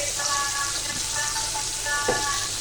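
Bata fish frying in hot oil in a pan, with a steady, close sizzle and crackle that continues without a break, plus a few faint clinks.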